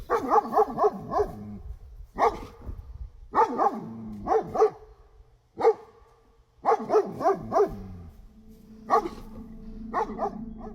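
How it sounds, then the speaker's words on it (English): A dog barks in repeated bursts of several sharp, close barks with short pauses between them, loud and clear in a forest setting, with no talk over it. "her dog started barking and moving toward the man"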